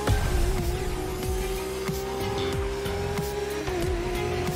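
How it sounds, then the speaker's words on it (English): A high-revving V12 sports car engine in The Crew Motorfest video game roars steadily with gear shifts, accompanied by background music and rhythmic thumps, sustained and close throughout. "Listen to that V12."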